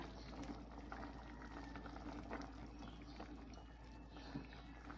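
Cabbage simmering in a pot of native chicken soup (tinola), with a steady low bubbling and soft liquid churn running continuously and fairly faint throughout.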